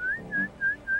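Four short rising whistles in a steady rhythm, each a clear bright note, loud and close with brief pauses between and nothing else in the background.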